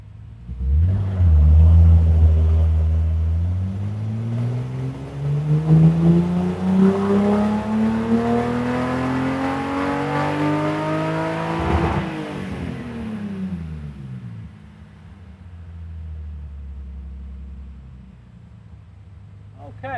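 A BMW E30 engine on a dyno climbs in a long rising rev, loud and close, then drops back and settles to a lower rumble near the end.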